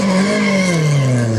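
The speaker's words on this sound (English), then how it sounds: "Car about to head out track. Listen to this." An Equipe Elan 26R race car heading onto the track at Silverstone gives a loud, close engine roar whose pitch slides steadily downward over a moment, with no voices.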